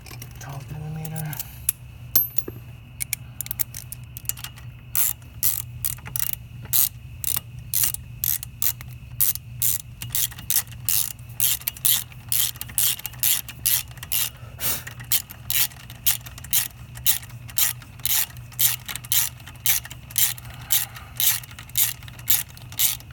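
Ratchet wrench clicking steadily while snugging a 12 mm bolt on a Honda Monkey clutch cover, fast regular bursts of pawl clicks close up, with a faint steady hum beneath.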